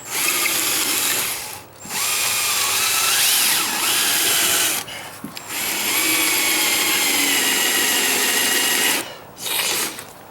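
A power drill whines loudly and steadily in long bursts into rotted deck wood with a dull bit, stopping briefly twice, close up with no voices.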